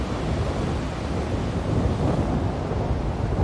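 Beach surf, a steady, broad roar of sea waves with heavy wind rumble on the microphone, continuous and fairly loud throughout without distinct breaks.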